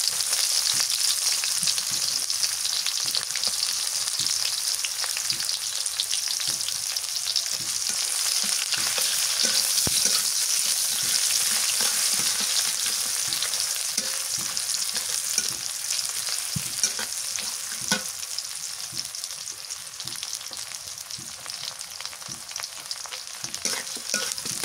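Onions sizzle and fry steadily in a hot pan with small cardamom and cloves, a dense continuous hiss with occasional stirring scrapes, close and fairly loud, with no voices.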